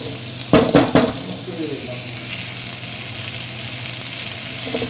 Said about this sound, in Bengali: টমেটোটা গলা অবধি ভেজে নেব। বেশি ভাজবো না, অল্প অল্প ভেজে নেব।